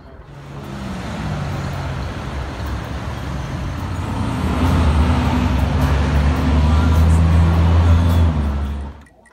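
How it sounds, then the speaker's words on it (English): A Greyhound bus engine idles and then rises into a loud, steady low rumble that builds over several seconds before cutting off, heard up close with no talk. "getting ready to get on yet another Greyhound bus"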